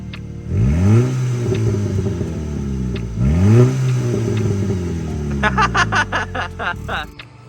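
A Volkswagen GTI engine with a downpipe-only exhaust cranks and roars to life twice, loud and close with a raw, unmuffled rasp, ending in a series of sharp revving blips.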